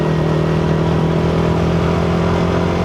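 A Yamaha Sniper 155 motorcycle engine holds a steady, loud drone under engine braking, its tone sustained and only slowly easing as the revs fall.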